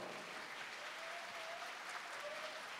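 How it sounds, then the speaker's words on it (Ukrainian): A concert audience applauds the Odesa Philharmonic orchestra performers with steady, dense clapping that stays faint and distant throughout. "Тому їм величезні аплодисменти"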